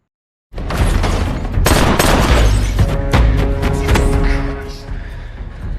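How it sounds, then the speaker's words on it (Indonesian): Gunfire in a film scene where robbers are shot at, loud close bursts of rapid shots and booms that start abruptly and continue densely over a sustained echoing din. "Eds dengan santainya keluar dari mobil, menembaki para perampok."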